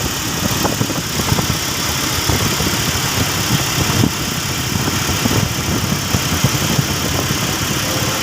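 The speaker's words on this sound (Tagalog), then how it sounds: "So ayan, pinaandar na namin yung kanyang makina." Toyota Fortuner gasoline engine idling during thermostat housing and bypass tube repair, a steady close mechanical rumble with fine ticking and rattling, continuous and even throughout with no talk.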